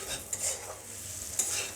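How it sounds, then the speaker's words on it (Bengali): Fish fat frying in a pan (a dish with fish gills and onion), giving a steady close sizzle with occasional stirring scrapes and clinks, no voices. "বন্ধুরা দেখুন আমার কত সুন্দর মাছের তেল ভাজা হয়ে গেছে"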